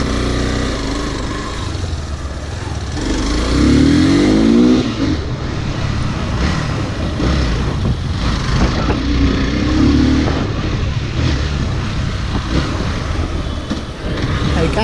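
A Hero Xtreme 200S motorcycle runs close by with a deep, bassy exhaust note, holding a steady idle and rising in two short revs before settling back.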